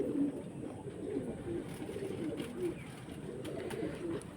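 Pigeons give soft, low, rolling coos, repeated several times in a row at a quiet level over a faint background.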